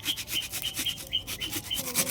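Tomatoes are rubbed against a grater in quick, even back-and-forth strokes, a close, scratchy rasp repeating about every quarter second.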